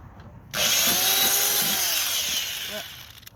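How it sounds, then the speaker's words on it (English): A power drill whines steadily while boring a hole into the body of a Ram 3500 truck, starting abruptly and running loud and continuous for about three seconds, with a faint clunk near the end. "I'm going to drill another one on this side"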